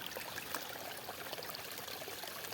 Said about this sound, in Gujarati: ભાઈ જો પાણી કેવી રીતનું આવે અહીંયા